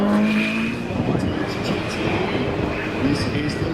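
A Ferrari FXX Evo supercar roars past on the hillclimb at the Goodwood Festival of Speed, a loud continuous engine note with a shifting pitch that holds steady for several seconds amid crowd ambience.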